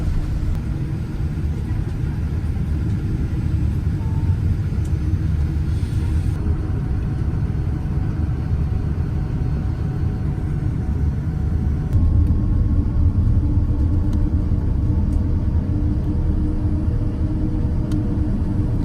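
Steady engine rumble and cabin hum from a Virgin Atlantic airliner taxiing in the departure queue at London Heathrow, continuous and moderately loud with a brief rise in noise partway through, no talk.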